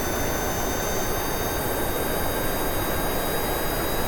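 A steady, loud roar from a plane's jet engine in Kerbal Space Program, running continuously with a thin high whine layered over dense broadband rush, no voices.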